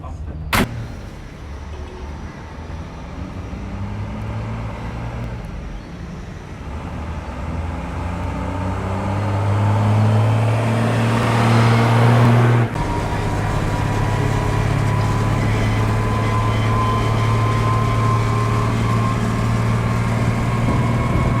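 A Mercedes U1700 Unimog truck on standard ADF tyres and gearing pulls away and drives, its engine droning steadily and rising in pitch as it accelerates, with a shift in tone midway.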